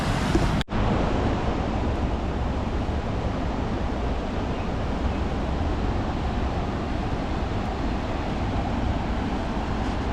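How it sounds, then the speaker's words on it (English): Ocean surf on a beach in a small Taiwanese coastal town strewn with driftwood after a typhoon, a continuous broad roar of waves with heavy wind buffeting the microphone, loud and unbroken apart from one brief dropout near the start. "Ocean."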